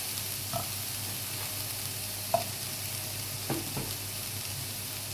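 Onions sauté with butter in a pan, giving a soft, steady sizzle throughout with a few faint clinks of a utensil.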